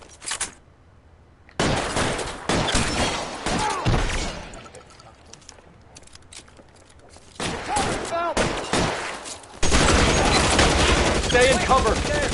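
Shootout gunfire in the video game L.A. Noire, loud repeated shots and bursts with breaking and shattering debris, sometimes in quick clusters, sometimes a sustained barrage, with voices talking in between.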